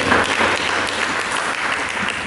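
A church congregation claps at a Sunday sermon, loud sustained applause from many hands filling the hall without pause.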